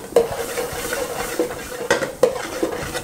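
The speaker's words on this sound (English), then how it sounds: "I just stir everything in here" Food stirred in a pan on a cooking show, lamb ribs and chicken wings on the menu: scraping utensil strokes come at an irregular pace over a soft, steady sizzle, with a few sharper clinks against the pan.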